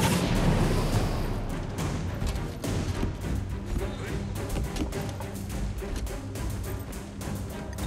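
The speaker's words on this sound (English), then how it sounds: "Be ready to give the signal, and return fire once the cannons are loaded!" Dense, continuous barrage of booming cannon blasts and crashing impacts with a steady rumbling low end, a chaotic Guild Wars 2 battle soundscape with faint voices beneath.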